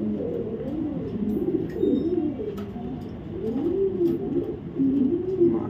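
Imported China knot pigeons at a racer-pigeon farm coo in low, throaty rolling phrases, several overlapping calls repeating steadily and close by with no talk over them.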